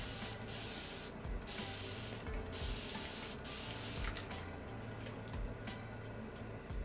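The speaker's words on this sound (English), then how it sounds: "I'm gonna spray a little bit to get rid of the frizz." Bursts of hair spray hiss close by, several short sprays in a row with brief pauses between them, running water faintly underneath.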